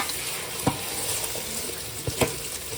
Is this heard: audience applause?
no